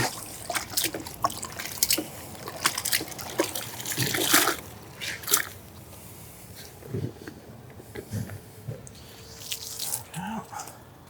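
Water sloshes and drips in a car wash rinse bucket, with close, intermittent trickles, splashes and drips that come in irregular bursts.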